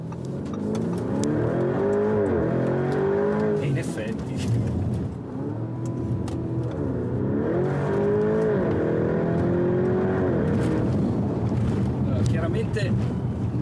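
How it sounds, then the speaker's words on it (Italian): A Lamborghini Urus super SUV drives through Rome, its engine droning steadily with rising and falling revs as it pulls through the gears, wind rushing over the microphone and someone talking over it throughout. "Prima sgambata sulla nuova Lamborghini Urus, il super SUV, così definito."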